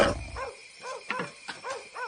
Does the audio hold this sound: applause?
no